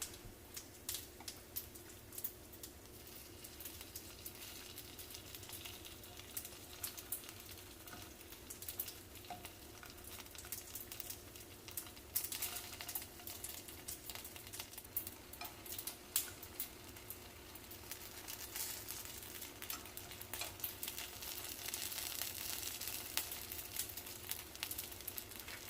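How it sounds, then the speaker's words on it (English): Dumplings frying gently in a pan on low heat give a steady, soft sizzle and crackle, close and even throughout with faint pops and no talking. "So a light fry on a low heat for 5 minutes."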